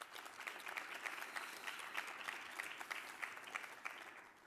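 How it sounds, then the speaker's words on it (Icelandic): Audience applause for athletes at a sports awards ceremony in Akureyri, a steady wash of clapping from a large crowd sustained throughout at a moderate, slightly distant level. "ég held að við gefum nú þessu góða fólki bara gott klapp aftur"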